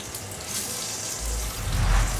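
A kitchen tap runs, its water stream rising into a fuller, louder rush partway through, heard close and alone while a beef soup is being started.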